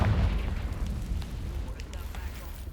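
A fire-blast spell explosion in Hogwarts Legacy, a heavy low boom at the start that rumbles and decays into a dull noisy tail, with a voice speaking over it.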